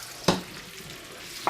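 Shrimp dropped into overheated oil in a pan for shrimp fried rice: a sharp clatter and burst of sizzling, then a faint steady fry with another clink at the end, no talking.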